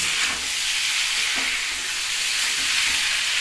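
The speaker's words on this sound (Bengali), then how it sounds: "এবার পেঁয়াজ টমেটো আর ক্যাপসিকামটা এইভাবে ভেজে নিচ্ছি" Onion, tomato and capsicum frying in a pan for dry chilli chicken, a loud continuous hiss of hot oil that holds steady throughout, close up with no voices.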